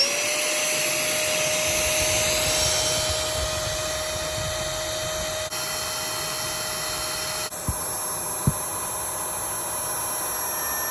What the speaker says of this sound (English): To start our pump, we're just gonna go ahead and push that button again.